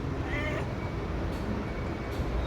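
A pet cat gives one short, clear meow near the start, close to the microphone and fairly quiet, over a low steady background hum.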